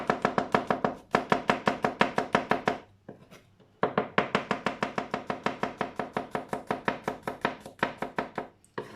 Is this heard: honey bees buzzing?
no